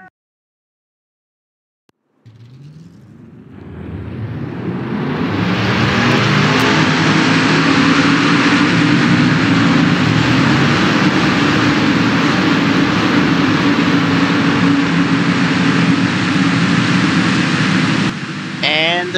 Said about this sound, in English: let's get the truck's engine started and get rolling here at Chicagoland for race number 8